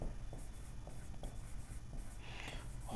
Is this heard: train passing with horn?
no